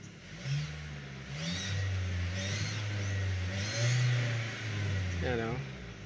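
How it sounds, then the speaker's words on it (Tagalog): A car engine with low power and a noisy, oil-soaked belt and pulleys is revved several times in a workshop check, rising and falling in steady swells, with someone talking over it. "ngayon i-rev natin para makita natin kung may low power to"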